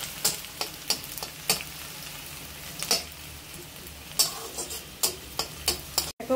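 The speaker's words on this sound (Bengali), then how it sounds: "এটাকে আমি সুন্দর করে ভেজে নেব" Prawns fry in oil with chopped onion and green chillies, giving a steady soft sizzle broken by frequent sharp crackles and spatters. Nobody speaks.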